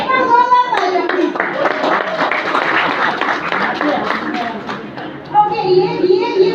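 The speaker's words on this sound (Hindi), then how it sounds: "एक बार जोरदार तालियां।" Loud audience clapping in a classroom-style session with children present, steady applause over several seconds mixed with chatter and a speaking voice at the start and end.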